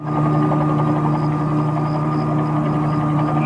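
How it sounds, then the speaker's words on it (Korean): A government helicopter arrives in a low-budget horror film about giant spiders, its loud, steady rotor and engine drone rumbling continuously with no voices over it. "마침내 정부에서 보낸 헬기로"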